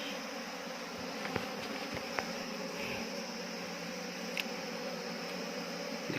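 A swarm of Apis cerana indica honey bees buzzes steadily around a small box, a dense continuous drone close to the microphone, with a few brief knocks.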